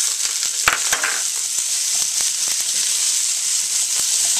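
Leftover cooked lamb fries in a hot pan for fried rice with a loud, steady hiss of sizzling, dotted with crackles and pops and a few stirring scrapes.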